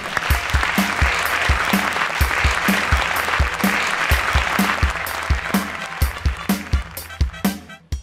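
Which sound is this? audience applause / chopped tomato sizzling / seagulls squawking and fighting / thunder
audience applause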